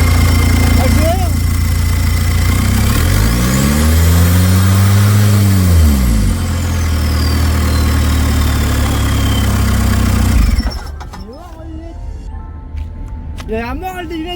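Car engine loud and close, revving up with a rising, swelling pitch for several seconds before cutting off abruptly; speech and faint road noise follow.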